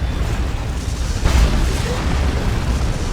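Heavy explosions from an orbital bombardment and a rocket run in the Dawn of War 2 strategy game, a dense sustained rumble with a stronger blast swelling near the middle, no speech over it.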